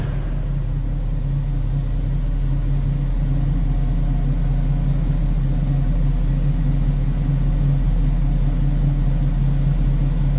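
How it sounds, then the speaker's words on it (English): A 1967 Chevrolet Camaro convertible with a 327 small block V8 idles, its exhaust giving a steady, deep, throaty rumble close by with no talk over it. "Nice deep throaty exhaust note."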